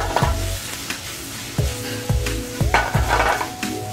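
Onions cooking down in sauce and stock in a pan, a loud close bubbling sizzle with repeated knocks and scrapes of a utensil against the pan at an uneven rhythm.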